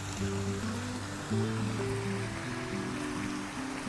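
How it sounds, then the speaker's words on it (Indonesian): A river flowing beside a hill hiking trail gives a steady rushing wash throughout, partly masked by background music with sustained low tones. "jadi kali ini treknya ini bersebelahan dengan sungai ya"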